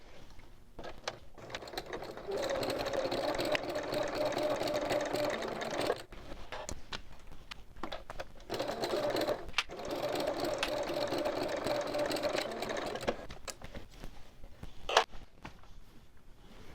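Sewing machine stitching the side seams of a small boxed-bottom bag at a 2.8 stitch length, running in two long steady bursts of several seconds each, separated by a pause and followed by short starts and a brief clack.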